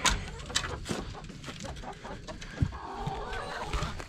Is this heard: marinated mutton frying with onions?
no